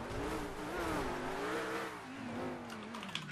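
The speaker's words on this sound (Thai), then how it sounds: "เสียงรถมันเปลี่ยนไปปะ ใช่ใช่มันคือเสียงออริจินอล" An Audi R8 engine in the video game GTA V drones steadily, rising and falling in pitch like continuous revving, loud and close throughout with a brief sharp noise at the very end.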